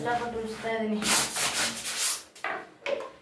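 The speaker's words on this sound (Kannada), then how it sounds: "ಬೆಳಿ ಶರ್ಟ್ ಆದರೆ ವಾಷಿಂಗ್ ಮಿಷಿನ್ ಹಾಕಲ್ಲ, ಚೆನ್ನಾಗಿ ಕೈಲಿ ಉಜ್ಜಿನೇ ಇದು ಮಾಡ್ತೀನಿ." A white shirt is scrubbed by hand, producing loud, close rasping rubs in a few sweeping strokes, with a faint voice briefly audible at the start.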